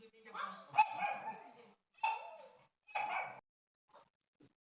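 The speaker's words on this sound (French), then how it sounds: "j'avais les chiens qui aboyaient" Dogs bark in a few sharp bursts at moderate distance, three or four loud barks separated by short pauses, then quieter fading yelps, with no talk over them.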